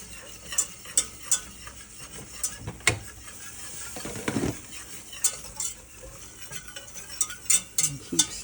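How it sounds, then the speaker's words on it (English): Heaping spoonful of flour stirred into melted butter in a pan, making light, uneven scraping and tapping of a utensil in irregular bursts over a faint sizzle, close and quiet, with no voices. "And keep stirring it and stirring it."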